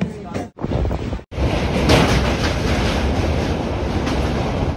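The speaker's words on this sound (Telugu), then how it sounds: "ఇదే మా ట్రైన్." Sarkar Express passenger train, boarded at coach S7 on the Rajahmundry to Chennai route, rumbling loud and steady close by with wind buffeting, after a brief dip into near silence at the start.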